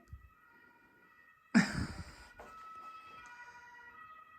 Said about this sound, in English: Oh, those sirens,